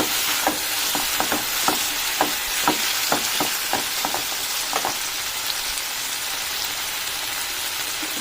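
Tomato and tamarind mixture stirred in a pan for mint chutney: a run of sharp, fairly close scraping strokes in an irregular rhythm over a steady hiss, giving way to just the hiss for the last few seconds.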